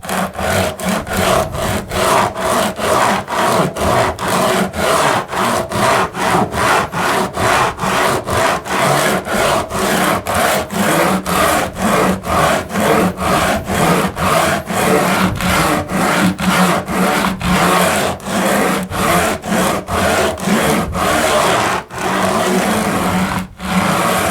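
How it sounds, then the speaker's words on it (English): Cheese grater rasped over the cork or foam track bed of an N scale model railway, loud rhythmic back-and-forth scraping strokes at a steady quick pace, close by with no talk. "we'll go ahead and give it the little cheese grater here."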